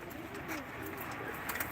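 Pigeons coo softly amid a busy, murmuring backdrop at a pigeon auction in Ankara, a steady low hum of many birds with faint scattered calls and no clear talk.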